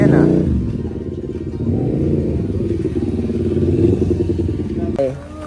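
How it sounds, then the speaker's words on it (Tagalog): A motorcycle engine runs close by with a steady rumbling, clattering drone that carries on for several seconds while people talk nearby. "Uy, motor ko yan ah."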